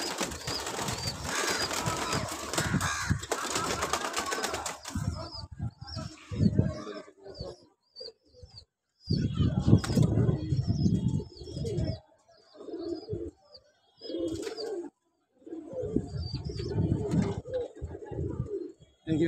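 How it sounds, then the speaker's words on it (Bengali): Pigeons in a rooftop loft coo in low repeated murmurs with bursts of wing flapping, near and fairly loud, while people talk at the start and between calls. "ভাই, আপনার একটা পছন্দের কবুতর দেখেন"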